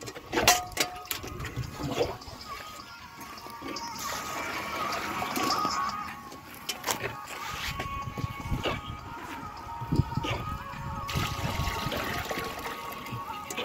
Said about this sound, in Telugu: చెట్టుకు 1 లీటర్ పోస్తున్నాం.